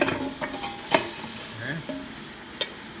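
Beef drops into a hot pan with fish sauce and is stirred, giving a steady close sizzle broken by a few sharp scraping and clattering clicks, with no voices.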